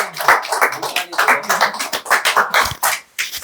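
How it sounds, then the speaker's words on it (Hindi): An audience at an appreciation ceremony claps for the team's top scorer, a burst of uneven, fairly close applause from a small group, with some talk mixed in. "अरे ताली बजाओ यार अच्छे से"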